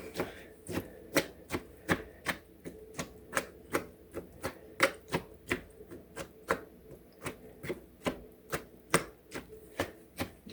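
Handheld food chopper gadget hammers away in a kitchen, sharp plunging clacks repeating in a fairly steady rhythm about twice per second, close and crisp with no talk.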